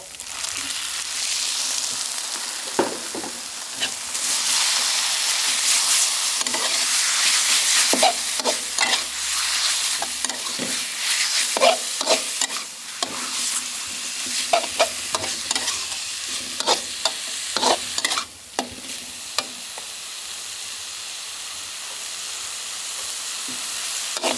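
Chicken stir-fried with lemongrass in a hot pan, with a steady loud sizzle and repeated scraping and clattering stir strokes. No one speaks.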